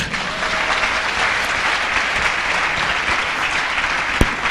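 A church congregation claps together in sustained, even applause that fills the space, with a faint voice briefly underneath and one sharp knock near the end.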